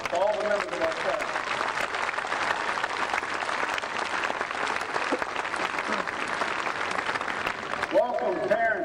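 Applause at a 2015 West Mifflin high school graduation ceremony, a sustained, loud crowd clapping for the staff that carries on steadily for about eight seconds before a voice returns at the end.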